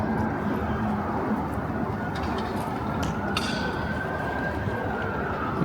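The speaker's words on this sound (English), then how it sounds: "I can hear sirens all over" Sirens wail across a seaside town around the tower, a long rising tone carried over constant street and traffic noise, fairly distant and steady throughout.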